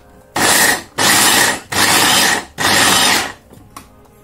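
An electric food chopper minces onions for a pineapple sweet-and-sour chicken in four loud, close whirring bursts. Each lasts under a second, with short pauses between them and a faint fifth tap at the end.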